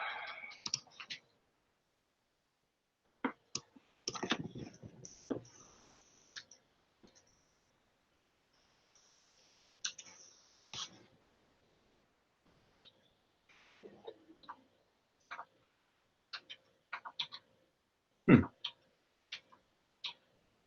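Fingers tap on a computer keyboard in scattered bursts of crisp clicks separated by quiet pauses, close and fairly soft, with no talking.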